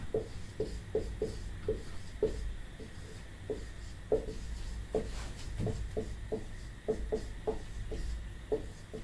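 Chalk or marker taps and scratches across a board during a lecture in a quiet room, coming in short rhythmic strokes, about two per second, with brief pauses between words.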